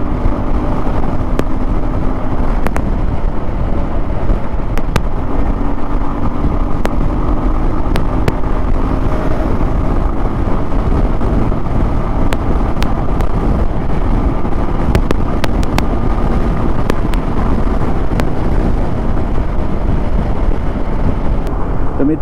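A Suzuki V-Strom 250 motorcycle rides along a highway after servicing, its engine droning steadily and close under heavy, constant wind rush against the microphone, with occasional shifts in engine pitch.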